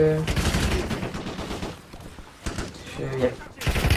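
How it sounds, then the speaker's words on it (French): Gunfire in the Call of Duty Warzone video game comes as rapid bursts of shots at the start and again near the end, with a quieter gap between them. "J'essuie des tirs."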